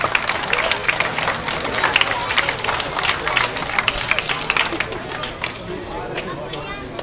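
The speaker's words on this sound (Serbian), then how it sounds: "pozdravimo i njih jednim aplauzom" Applause from a crowd at the opening ceremony of the 19th international Kup nada tournament in Šid, dense and steady throughout with crowd noise mixed in.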